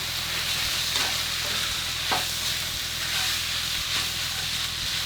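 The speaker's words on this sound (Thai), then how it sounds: "แล้วก็ผัดนะครับ ผัดให้เข้ากัน" Salted chicken stir-fried with a spoonful of sugar in a hot pan, a steady loud sizzle with scraping spatula strokes repeating about once a second, no voices.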